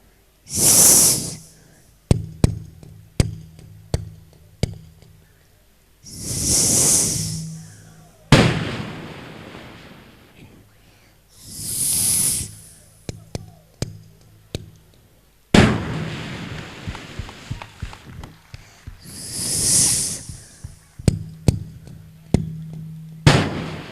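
A mimicry artist on stage imitates fireworks with his voice, with repeated whooshing hisses followed by sharp pops and crackling bursts, alternating several times over a longer stretch.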